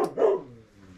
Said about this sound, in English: We just have a barking dog like usual